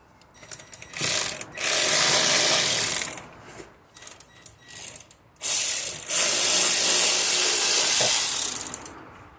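A wrench ratchets against a stubborn sump nut under a Saab 9-3, with two long bursts of rapid, loud clicking separated by shorter mechanical rattles and pauses, close by, with no talking.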